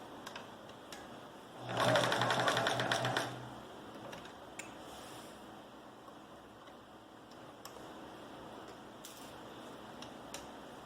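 A sewing machine stitches a zipper fly, a short loud mechanical whirring burst of about a second and a half, followed by quiet room noise with faint clicks and handling.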